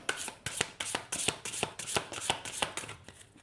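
Tarot cards being shuffled by hand for a reading, a quick run of crisp riffling slaps and soft rubs repeating at a steady rhythm, close and fairly quiet with no voices.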